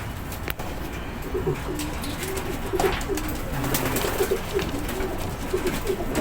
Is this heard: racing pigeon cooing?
yes